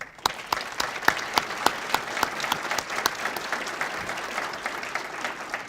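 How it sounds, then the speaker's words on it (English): An audience at the 2014 Walker College of Business scholarship reception applauds honor students, with crisp, distinct claps rising quickly and holding steady at moderate loudness for several seconds, no voices on top. "You all need a round of applause"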